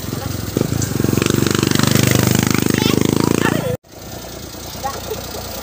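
A motorcycle engine runs loud and close with a fast, throbbing putter, then cuts abruptly; quieter background noise and faint activity follow.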